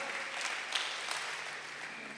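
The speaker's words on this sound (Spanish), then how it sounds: "Démosle un aplauso al Señor, amado" A church congregation claps steadily, a dense patter of many hands that holds at an even level throughout.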